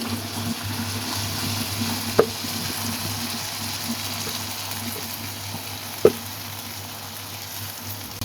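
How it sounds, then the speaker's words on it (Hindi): Green chilies and raw mango paste frying in oil, a steady close sizzle with soft stirring and two sharp utensil knocks, no talk. "इसका मतलब है मिर्चें हमारी फ्राई होना शुरू हो गई हैं"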